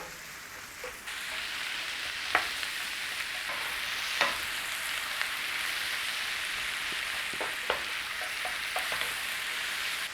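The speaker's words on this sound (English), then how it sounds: "Start to cook your apple in there." Apple pieces frying in a pan after onions for a Normandy pork and cider cream sauce, a steady broad sizzle throughout with a few sharp utensil clicks and stirs, close and continuous with no talking.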